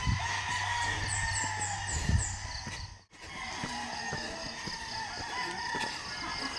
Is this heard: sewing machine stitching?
no